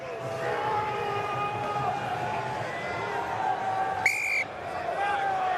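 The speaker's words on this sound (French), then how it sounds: "coup de sifflet." A short, sharp referee whistle blast cuts through a noisy stadium crowd at a Pro D2 rugby match, with commentary voices continuing underneath.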